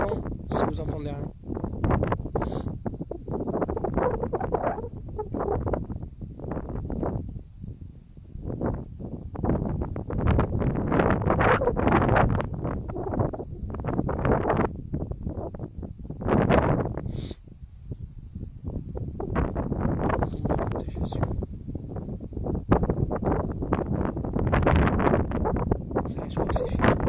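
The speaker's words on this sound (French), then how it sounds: "Non, c'est le vent" Strong wind buffets the microphone in continuous gusty rumbles, with a person talking underneath throughout.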